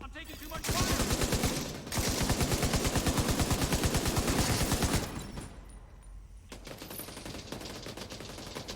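Sustained automatic gunfire from The Division 2 video game rips in loud, rapid bursts for several seconds, pauses briefly, then continues before fading into quieter scattered shots and rumbling ambience.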